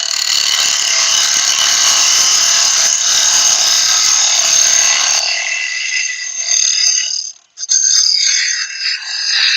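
Lathe tool cutting a spinning piece of mulberry wood, a loud steady high-pitched hiss and scrape for about five seconds, then lighter intermittent cuts with a brief pause.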